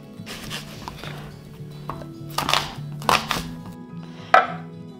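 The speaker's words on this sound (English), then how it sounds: "So the first thing to do is to chop your onion." An onion is chopped with a knife on a board, a run of close, rhythmic thuds and taps that build to a few sharper, louder strikes, with no talk.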